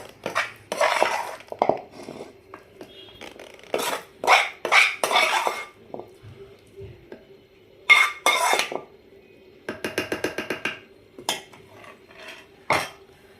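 Boiled gongura leaves and garlic are pounded lightly in a stone mortar, irregular bursts of knocking and grinding with quiet gaps between, then a quick run of rapid strikes near the end.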